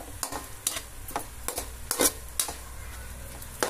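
Soy sauce being stirred into a dish in a pan, a spoon scraping and tapping the pan in a loose series of bright clicks over a soft sizzle, close and fairly quiet.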